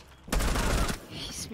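Enemy gunfire in Rainbow Six Siege: a single sharp, rapid burst of automatic shots lasting about half a second, fairly close and loud, then quieter room ambience.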